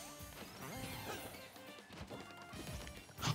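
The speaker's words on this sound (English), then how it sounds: "Oh, look at that side B from Sully, just throwing it out there." Super Smash Bros side B special attack hits land amid dense game sound, several sharp crashing whacks layered over music and effects, with a louder hit at the end.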